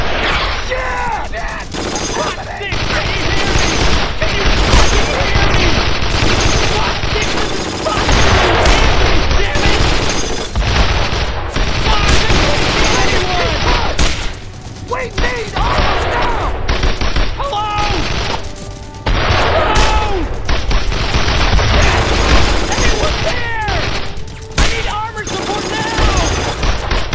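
Dense, loud World War II combat from the video game Brothers in Arms: Road to Hill 30: nonstop rifle and machine-gun fire with booms, while soldiers shout over the barrage.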